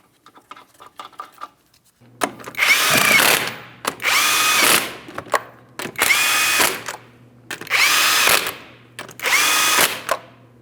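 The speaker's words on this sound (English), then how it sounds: "We'll start them on, bottom them out, get the wheel safely on the ground" A power tool runs down the 19mm lug nuts on a rear wheel of a 2007-2014 Ford Edge, giving five loud, even whirring bursts separated by short pauses, close by and with no talking.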